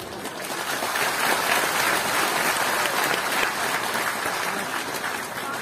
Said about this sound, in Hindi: उनको धन्यवाद ताली बजा करके दें।